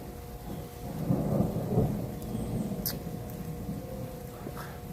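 A thunderstorm rolls through with low, rumbling thunder swelling and fading under a constant hiss of falling rain, heard from outdoors at a moderate distance.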